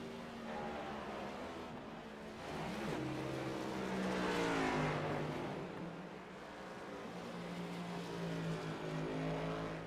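Next Gen Cup stock cars lapping Sonoma in a sim racing game, a dense droning pack of engines swelling and fading as the cars pass, steady and continuous at moderate volume.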